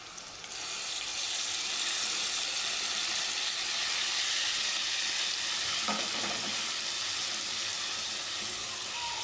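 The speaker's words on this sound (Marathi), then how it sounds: "आता यामध्ये हा वाटलेला ओला मसाला मी घालतो" Ground wet masala paste hits hot oil over roasted spices for aloo curry and sizzles loudly. The steady, hissing frying noise carries on unbroken for several seconds and is heard alone.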